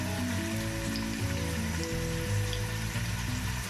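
Garlic paste sizzles hard in a pan of fried onions, a steady close, loud crackle and hiss running throughout with no talk.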